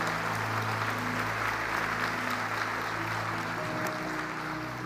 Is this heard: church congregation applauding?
yes